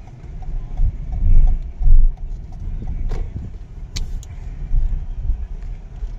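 A Toyota Yaris 1.5 Hybrid with e-CVT manoeuvres slowly in reverse, its quiet engine and rolling noise rising and falling in soft surges, with a few brief clicks.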